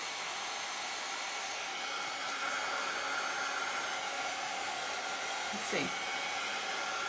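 A heat gun runs throughout, blowing a steady loud rush of hot air over a DIY coaster, with a brief spoken remark near the end.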